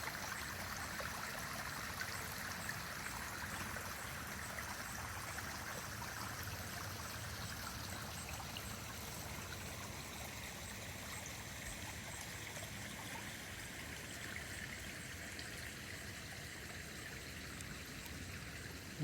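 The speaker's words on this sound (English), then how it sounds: "there's the pond at the top with the waterfalls heading down" Steady trickling and splashing of water running down a small garden waterfall from a pond, continuous and close, with no voices.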